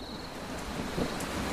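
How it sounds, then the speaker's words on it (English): Heavy rain pours down in a South American rainforest, a steady hiss of countless drops on foliage with a few nearer splats, continuous and moderately loud, no voices. "Wow, listen to all that rain come down."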